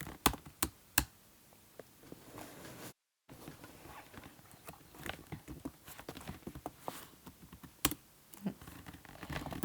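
Typing Java code on a computer keyboard: irregular bursts of clicking keystrokes, close and fairly loud, with a short silent break early on and no talk.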